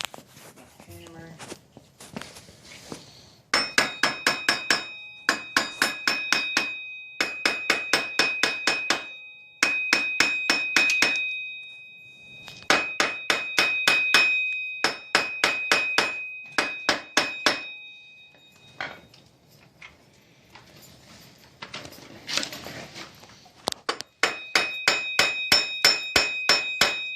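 Repeated hammer blows driving a wheel bearing onto a 2003 Polaris Predator 500 ATV, struck in sharp rhythmic bursts of several hits with short pauses between, close and loud, with a brief stretch of quieter shuffling mid-way.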